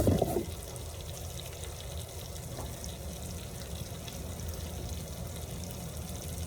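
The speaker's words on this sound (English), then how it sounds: "hit it with a little fish sauce for some additional bean action" Fish sauce is poured into a pot of cooking beans, making a soft, steady liquid pour over a low kitchen hum, with a brief clatter at the start.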